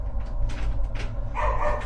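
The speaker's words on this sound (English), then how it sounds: "Dogs barking and everything." Dogs barking in a house, several yips and barks in quick succession under steady low background hum, moderately close.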